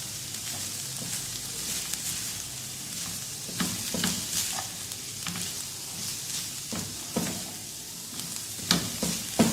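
Chicken pieces stirred and fried in a pan sizzle steadily up close, with repeated spatula scrapes and clicks breaking through the continuous frying hiss, no one talking.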